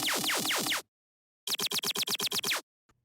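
A tearout dubstep main synth layer built in Serum with an RX8 declick trick: a long stretch of harsh, gritty, sweeping bursts, a short pause, then eight rapid stuttered hits, loud and close with no talk.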